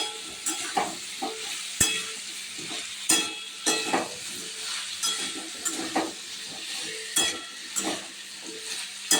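Egg curry masala with salt being stir-fried in a pan, steady sizzling under repeated scraping and clinking spoon strokes, close and moderately loud, no one talking.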